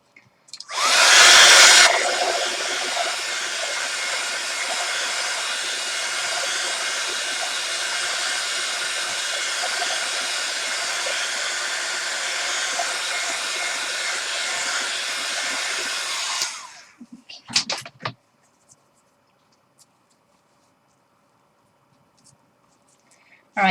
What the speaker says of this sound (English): Let me just dry this ink again before I take a baby wipe to it.